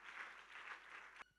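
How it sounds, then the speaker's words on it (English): Church congregation applauding, a faint, distant wash of clapping hands that holds steady for over a second before cutting off abruptly. "Clap your hands and give him praise."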